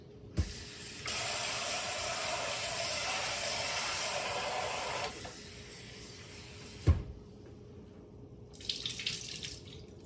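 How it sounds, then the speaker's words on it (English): Water from a kitchen tap rushes into a sink as one cup of dry rice is rinsed, a steady close spray lasting several seconds. A sharp knock follows, then a softer burst of running water, with no speech. "So 1 cup of rice, I'm going to rinse it."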